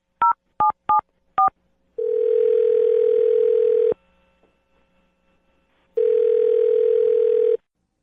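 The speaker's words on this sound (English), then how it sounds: "I'm going to dial her phone number right now." A telephone keypad sounds four short dialing beeps, followed by two long, loud, steady tones separated by a near-silent gap, as a number is dialed.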